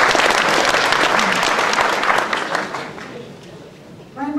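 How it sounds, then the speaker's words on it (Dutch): A room full of people at an association meeting breaks into thick, loud applause. It slowly fades over a few seconds until a voice starts speaking at the very end. "we komen hier nog even een applaus voor"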